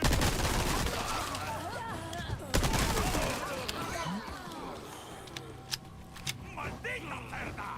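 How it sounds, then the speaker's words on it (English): Machine gun fire rattles in a video game: dense bursts of shots at first, then scattered sharp single cracks, with voices talking over the action. "I've got a machine gun."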